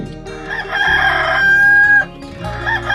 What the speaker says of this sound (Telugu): నువ్వు కూడా నీ కోత వినిపించు అనగానే గొంతు విప్పిందా కోడి